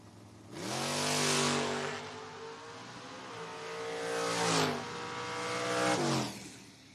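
Engines of a 2007 Ford Mustang and a 1992 Ford Mustang roaring down the strip in a footbrake drag race: loud, rising revs with repeated upshifts, heard from close by, then fading as the cars pull away.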